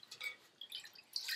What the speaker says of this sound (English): I'm going to pour a quart of chicken stock